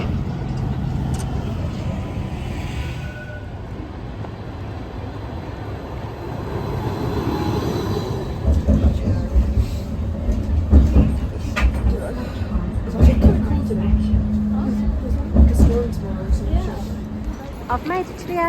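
An Edinburgh tram running to the airport, a steady low rumble and rolling hum with rising and falling motor whine and occasional clunks from the rails. A person talks over the ride for much of the time.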